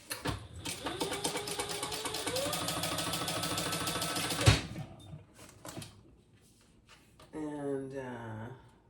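A sewing machine runs a line of topstitching along the side of a fabric wallet with a steady, close mechanical hum for several seconds, followed by a thump and brief handling noises, and then a second short burst of stitching.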